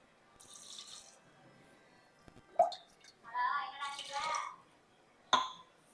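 Water pours into a pot of country chicken for rasam soup in a couple of splashy bursts, preceded by a clatter and followed by a sharp clink, close by.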